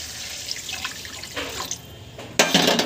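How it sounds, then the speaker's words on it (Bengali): Water is poured into a pan of ground cumin and chili spice paste for a fish curry, splashing and trickling close by and then surging louder near the end, with no talking. "এবার আমি জল দিয়ে দেব"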